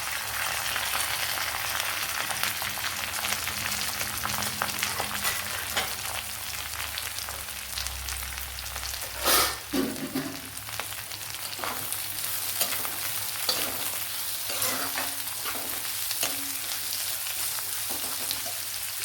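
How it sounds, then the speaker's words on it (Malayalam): Chopped onion hits the oil in a pan of capsicum and egg curry, setting off a continuous close frying sizzle with intermittent stirring scrapes and one brief louder clatter midway. "ഇതിലേക്ക് ചെറിയൊരു സവാള ഇതുപോലെ കട്ട് ചെയ്തെടുത്തിട്ടുണ്ട് അതുകൂടെ ചേർത്ത് കൊടുക്കുക"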